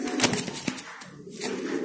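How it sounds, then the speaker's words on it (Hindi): White pigeons at a pigeon shop in Delhi give faint cooing and brief flutters within a steady, noisy shop background. "बहुत ही तेज कबूतर है गाइस"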